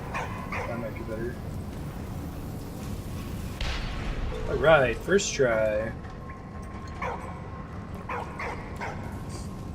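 Dog barking in the video game Valiant Hearts, a few short yips and barks clustered in the middle, mixed with game sound effects while a person talks before and after.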